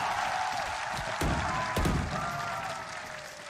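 Steady crowd applause and cheering fill the space, a dense wash of clapping with a couple of sharp thuds standing out partway through.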